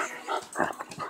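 A dog whimpering and whining in a few quick high-pitched bursts, close and fairly soft, with faint background voices.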